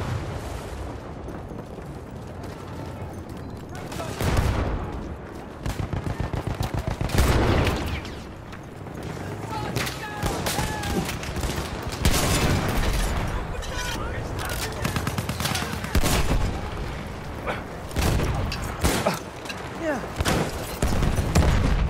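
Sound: artillery fire in the video game Battlefield 1

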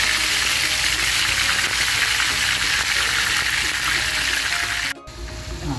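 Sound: chicken pieces frying in hot oil

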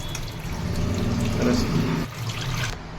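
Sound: washing coriander leaves with water

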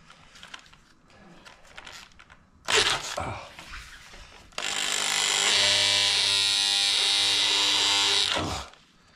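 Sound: drilling a hole through a wooden table

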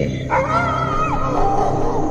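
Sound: dog barking, sound effect in an audio story

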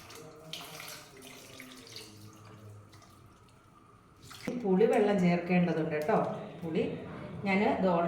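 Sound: water pouring from tap

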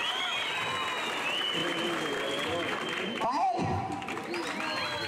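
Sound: applause at a village fiesta

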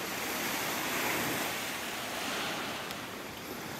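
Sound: ocean waves on a beach

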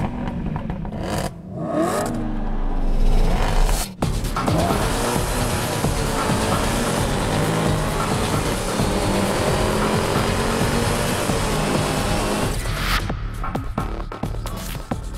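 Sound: racing cars driving in a PlayStation 4 racing video game

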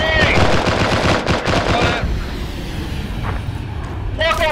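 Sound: gunfire shooting at the player in a video game

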